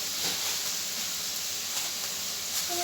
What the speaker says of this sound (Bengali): পেঁয়াজ বাটা লঙ্কা গুঁড়ো হলুদ গুঁড়ো দিয়ে মশলাটাকে ফ্রাই করে নিচ্ছি